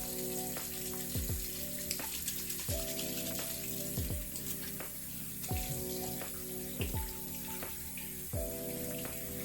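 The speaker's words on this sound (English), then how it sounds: "then I'm gonna go in and wash my face with the turmeric bar soap 1 time" Running tap water splashing steadily while a face is washed with turmeric bar soap, close by, with intermittent splashes and rubbing noises over a constant water stream, no talk.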